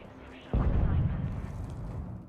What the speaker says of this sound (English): Like, there's explosions and stuff happening